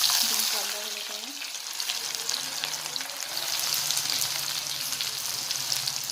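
Chopped onion dropped into hot oil tempered with cumin and mustard seeds, producing a continuous loud crackling sizzle throughout, with a faint voice briefly underneath.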